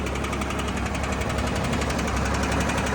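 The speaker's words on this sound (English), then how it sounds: "You'll notice a little bit of a lifter tick." An idling 1964 Chevy Corvair Monza Club Coupe engine with a slight lifter tick, a steady loud rapid ticking and knocking rhythm over a constant mechanical drone, close up and without talk.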